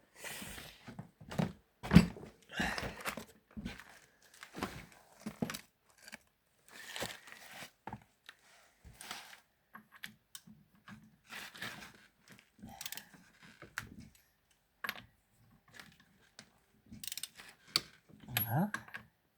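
Bolts on the steering rack of a Renault 11 Broadway diesel are tightened with a ratcheting wrench, giving close bursts of clicking and metallic clunks with gaps in between, and someone speaks briefly now and then.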